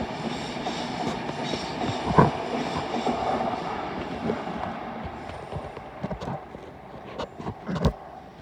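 A Class 390 Pendolino, unit 390-131 City of Liverpool, rushes past on a North London line: a steady, close broadband roar with rhythmic wheel clatter and a few sharper knocks, with no voices.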